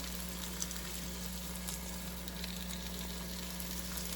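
Three cloves of diced garlic sizzle steadily in a soup pot as they go in for chicken tortellini soup, a soft even frying hiss that runs the whole time with a low hum beneath it.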